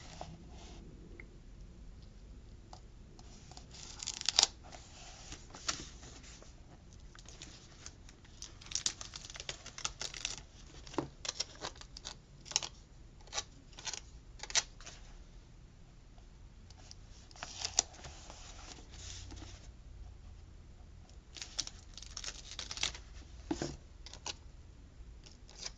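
Paper pieces are peeled off during art journaling, making scattered soft crinkles, rustles and small tearing sounds in irregular bursts. The handling is close but quiet, with short gaps between the bursts.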